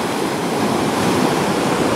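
Steady, broad wash of Caspian Sea waves breaking on a sandy Dagestan beach, with continuous surf roar and light wind across the microphone and no voices.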